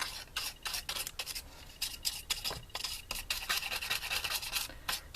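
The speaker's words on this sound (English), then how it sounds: "rubbing the inside and the outside of the letters just to get that excess" Excess gold leaf is rubbed off lettering by hand, a quick series of dry, scratchy brushing strokes in uneven bursts, close and fairly quiet.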